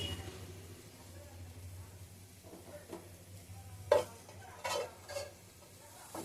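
Coriander leaves frying in a pan for a preserved coriander pickle, a faint low sizzle under soft stirring, with a few sharper scrapes and clinks of the spoon against the pan toward the end.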